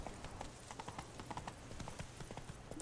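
Hooves of a horse clip-clop in The Witcher 3 on PC, a steady run of fairly close, crisp hoofbeats with a faint whinny, and no speech over them.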